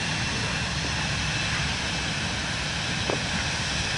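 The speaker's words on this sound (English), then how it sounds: "There's that plane taking off." A Vision Jet taking off in Microsoft Flight Simulator 2024, a steady broadband jet engine roar filling the whole clip at even loudness, with no talking.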